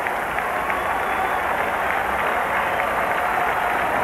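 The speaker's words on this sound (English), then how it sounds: "Players used to call swings like that ooh swing, because that's what you get from the crowd, that ooh, and you foul it back." A large baseball crowd at Shea Stadium during Game 5 of the 1986 NLCS, Mets against Astros, makes a loud, steady, sustained roar of massed voices that fills the whole moment without letup.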